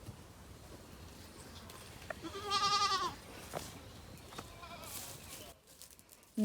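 A goat bleats in a short, wavering burst on a Jamaican farm, standing out clearly over low outdoor background noise with faint rustling before and after.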